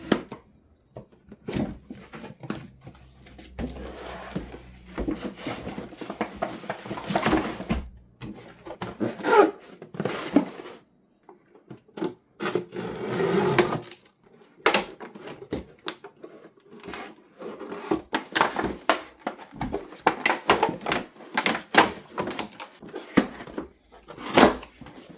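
Unpacking the box of a Wave Master high-speed RC boat produces irregular cardboard and plastic rustles, rubs and knocks, close and moderately loud, with brief pauses between bursts.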